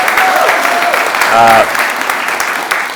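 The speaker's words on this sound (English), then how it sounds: "Another round of applause for Rosa DeLauro." A round of applause rises at a farm bill press conference, loud and close, with a brief voice cutting through the clapping midway.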